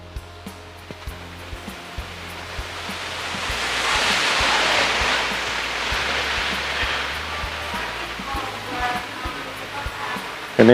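An LG front-loading washing machine with 8.5 kg capacity sloshes water as its drum turns, a steady rushing swell that rises and falls, alongside a low motor hum and faint clicks.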